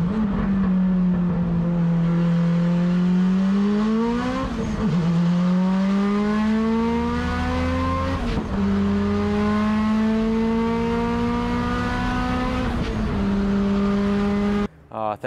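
A 700hp turbocharged AWD Eagle Talon time attack car with a 62 mm turbo accelerates hard through several gears. Each rising engine wail cuts off sharply at the shift, and the sound stays loud and close throughout.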